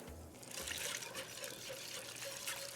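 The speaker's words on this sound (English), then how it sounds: "the roux's been bubbling for a few minutes, and now I'm gonna add the milk" Milk pours steadily into a pan of bubbling roux, a continuous trickling splash lasting a few seconds with no talking.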